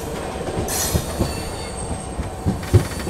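The Dhule–Mumbai Express rolls along the Central Railway main line, wheels rumbling steadily with scattered rail clicks and a brief high squeal, heard close from on board with no talking.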